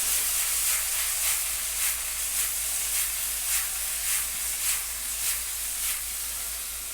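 Mushrooms stir-fried with soy sauce and oyster sauce sizzle in a hot pan, a steady hiss rising in rhythmic pulses about every half second as the food is tossed, with no talking.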